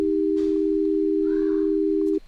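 A single steady telephone tone drones inside a horror video game set in an apartment building, held unbroken and loud for about two seconds before it cuts off abruptly.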